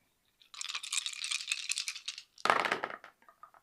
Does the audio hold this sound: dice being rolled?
yes